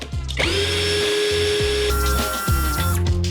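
DWT ASBP 20 cordless drill-driver running at its second speed, a close high-pitched motor whine in short bursts with quick spin-ups and stops, the pitch shifting between runs.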